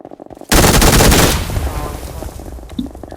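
Video game shootout gunfire erupts after a brief quiet moment: a sudden, loud, rapid burst of automatic shots that fades into a decaying, reverberant tail.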